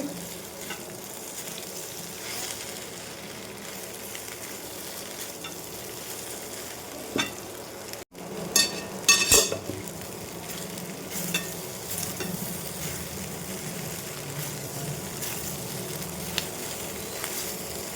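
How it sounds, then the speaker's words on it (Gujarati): Palak methi muthiya, spinach and fenugreek dumplings, stirred and frying in a pan, a steady close sizzle with scraping spatula strokes and a few sharper clinks of utensil on metal midway. "અને હવે આપણે આપણા મુઠિયાને મસ્ત રીતે હલાવી લઈશું"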